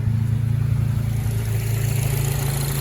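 An Acura TSX with a custom exhaust runs with a deep, droning, pulsing engine note, steady and close throughout the short stretch, with no voices.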